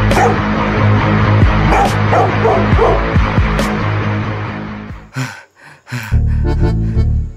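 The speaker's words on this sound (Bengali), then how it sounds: "কুকুরে ঘেউ ঘেউ করছিল, আমি দৌড়ে পাইলে এসেছি" A dog barks loudly and repeatedly at close range in a rapid run of sharp yaps, then breaks off into a few scattered, quieter barks.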